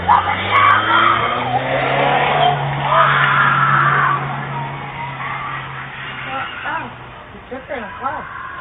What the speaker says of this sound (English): A car with its trunk open can be seen speeding away